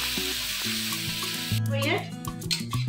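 Onions frying in a pan after whole cumin, a loud, close, continuous sizzle with a few stirring scrapes and clinks, and no voice over it.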